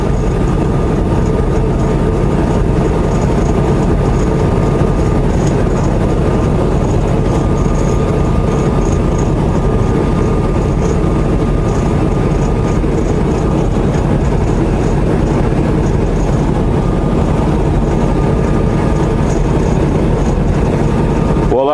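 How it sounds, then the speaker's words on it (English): A very long train rolls through open desert, producing a steady, loud, unbroken rumble of engines and rolling wagons that continues at constant strength for the whole stretch, with no break or fade. "I see a very, very long train over there"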